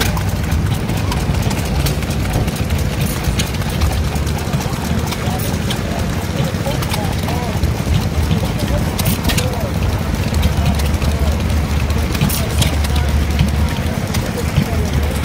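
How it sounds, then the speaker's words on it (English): Small 2 horsepower steam engines chug steadily at a steam fair, a continuous dense low mechanical rumble with a busy outdoor crowd and voices mixed throughout. "Oh, they're just quite happily, quietly chugging away."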